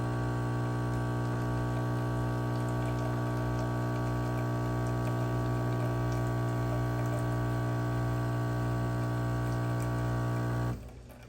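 A Jura ENA4 espresso machine brewing coffee during a cleaning cycle with cleaning tablets, giving a steady, loud mechanical hum with layered tones and faint ticking and dripping, running continuously before cutting off abruptly near the end.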